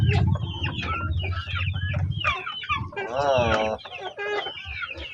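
Pet chickens kept at home clucking loudly and close by, busy overlapping clucks and squawks with one drawn-out crowing-like call midway, continuous and lively.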